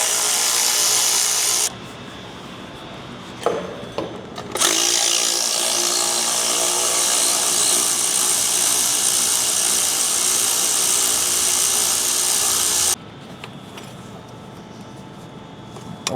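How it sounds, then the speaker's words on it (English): A tool works the clamps loose on an intercooler boot of a 2002-2004 Duramax LB7 truck engine. A loud, continuous mechanical whir runs in long bursts, broken by short pauses with a few clanks and knocks. "We're just gonna work the clamps off, help unstick it."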